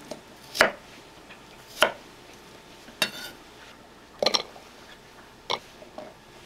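A knife chops shallots on a board in a home kitchen, five or six sharp, separate thwacks spaced about a second apart, close and clear against a quiet background.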